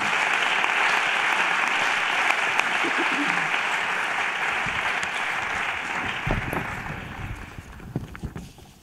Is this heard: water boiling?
no